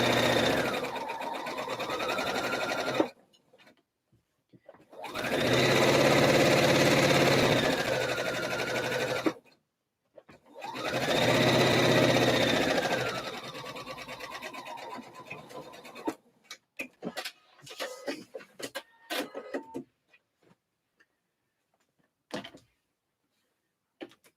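Sewing machine stitching the hem of a dress in two long, even runs separated by a brief stop, close and steady, followed by scattered clicks and handling sounds as the fabric is moved.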